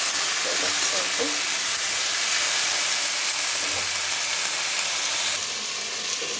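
Potatoes frying in hot oil in a home kitchen, a continuous soft sizzle and hiss with occasional light knocks from the pan, steady at moderate level.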